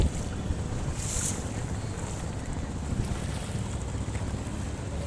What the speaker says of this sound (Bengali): নৌকা চলতেছি আমরা